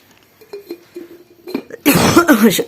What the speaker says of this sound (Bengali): এটা ভালো না, কাশি হচ্ছে, ঠান্ডা, জ্বর, গলা ব্যথা।